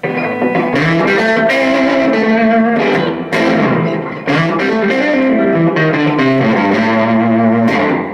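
A heavily distorted electric guitar plays loud sustained chords and riffs through a Fender Silverface Champ amp with its volume boost on, thick and saturated, with brief breaks between phrases.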